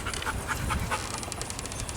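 Dog panting steadily and rapidly close by, a quick rhythmic breathing running through the whole moment with no one talking.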